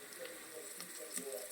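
Mint, coriander and kasuri methi frying in ghee for masala ghee rice, a soft, steady sizzle with faint crackles, quiet and brief.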